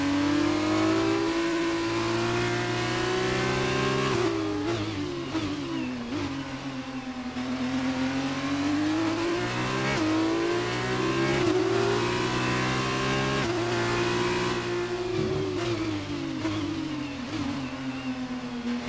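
Formula 2 race car in F1 2019 on a flying lap at the Bahrain Grand Prix, its engine loud and close, revving up and down through gear changes over about 19 seconds, no talking.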